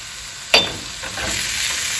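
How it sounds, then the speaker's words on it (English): Onion, sweet pepper and garlic sauté in a pan for veggie wraps, one sharp utensil clack on the pan early, then a steady close sizzle with soft stirring. "Onion and sweet pepper always smell great when we're sauteing them"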